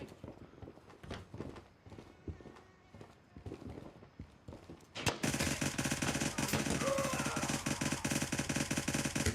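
Suppressed 300 Blackout short-barrel rifle in the Gray Zone Warfare video game, first scattered quieter game sounds, then a loud, sustained burst of rapid automatic fire emptying the magazine, continuous and close for the last several seconds.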